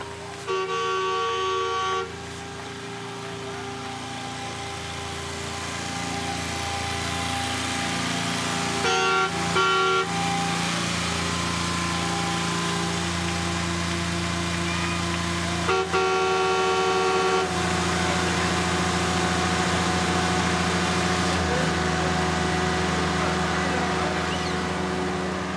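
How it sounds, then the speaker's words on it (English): A steady diesel locomotive engine rumble runs throughout with sustained horn-like tones sounding over it, loud and close. "While the new diesel engine rumbled"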